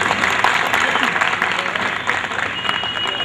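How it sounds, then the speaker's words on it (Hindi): Audience members at a Constitution Day gathering on a Lucknow campus clap steadily, a continuous moderate patter of many hands heard close and fairly even throughout, with faint voices underneath. "क्या मुझे ही ताली बजाना पड़ेगा क्या?"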